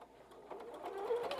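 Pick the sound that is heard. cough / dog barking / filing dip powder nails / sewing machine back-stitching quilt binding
sewing machine back-stitching quilt binding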